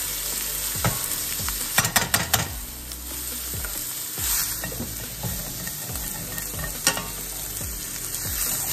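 Steak sizzles in a pan with garlic, a close, continuous fry with repeated scraping and a quick cluster of clacks early on, then more scattered stirring strokes, with no talking.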